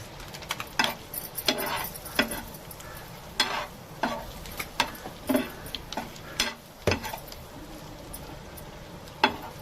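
Quail eggs fry in a pan with pepper, a soft steady sizzle broken by sharp clicks and scrapes of a utensil stirring against the pan, close and irregular, with no talking.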